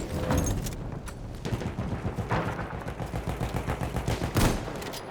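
Rapid machine gun fire in a Battlefield 1 video game, dense overlapping bursts of loud shots in quick rhythmic volleys throughout, with no talking.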